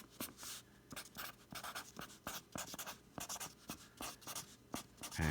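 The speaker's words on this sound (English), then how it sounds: "and then I write" A pen writes on packaging with a run of short scratchy strokes in an irregular rhythm, close but quiet, with no speech over it.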